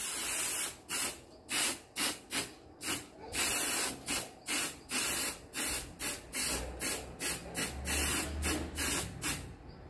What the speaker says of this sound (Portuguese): Mas o spray é esse aqui, ó. Ele é cromo, né? É metálico. E nós vamos pintar com ele mesmo.